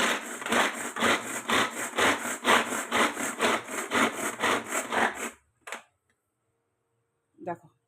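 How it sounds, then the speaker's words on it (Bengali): Garlic and green chilli rubbed on a grater, a fast, even rhythm of loud rasping strokes up close for about five seconds, then a short scrape and a brief murmur of voice. "এই রসুন আর এই কাঁচা লঙ্কা এগুলো গ্রেট করে নেবো।"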